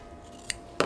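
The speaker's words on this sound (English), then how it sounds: "we'll trim off that extra edge" Scissors snip off the extra edge of a sublimation mug wrap, two quick close crisp cuts in an otherwise quiet room.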